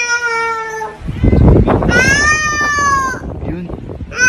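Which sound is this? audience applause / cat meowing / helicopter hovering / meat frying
cat meowing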